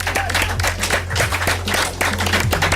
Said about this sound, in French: On peut l'applaudir? Allez.